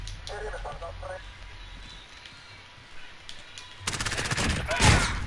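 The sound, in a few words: shotgun firing in a VR Call of Duty video game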